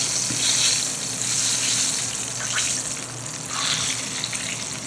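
Catfish fries in hot oil for a po'boy, giving a close, steady hissing sizzle with bubbling crackle that swells and eases slightly, heard alone without talk.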